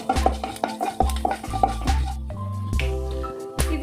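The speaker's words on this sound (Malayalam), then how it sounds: "കുറച്ച് കറിവേപ്പില, കുറച്ച് ഉഴുന്നുപരിപ്പ്, ഇത്രയും ഇട്ട് കൊടുക്കണം. നന്നായിട്ടൊന്ന് വഴറ്റി കൊടുക്കുക." Curry leaves and urad dal are being sautéed in a pan for Kerala-style tomato rice, with repeated stirring scrapes, clinks against the pan and a soft background sizzle. No one speaks.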